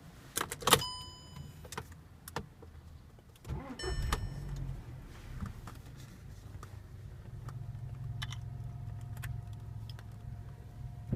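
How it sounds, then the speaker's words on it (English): A car engine cranks and catches with a sudden burst, then settles into a steady low idle rumble. Several sharp clicks, like keys or interior handling, come earlier, and no one speaks. "Start your car."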